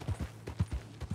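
Horse hooves clip-clop in the video game Red Dead Redemption 2: a quick, even run of dull thuds, close and clear, with no talk over them.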